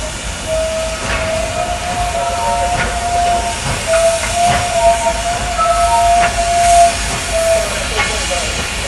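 A Reading and Northern steam locomotive on the Lehigh Rambler excursion hisses steadily and loudly, with a thin whistle-like tone drifting over the continuous rush of steam.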